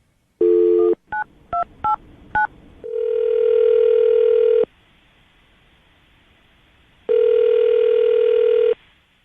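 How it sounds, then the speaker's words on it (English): A landline telephone plays a dialed sequence: a short tone, then four quick keypad beeps, followed by a long steady dial or ringback tone, a pause, and a second long tone, all loud, clear and free of talk. "I'm going to dial the phone number right now"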